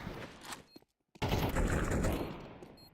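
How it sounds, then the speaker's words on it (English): Rifle gunfire in Counter-Strike 2 during a professional IEM Sydney 2023 esports match, a burst of dense, loud shots with a brief silent gap before another sustained volley. "really feeling it with the rifle here in CS2"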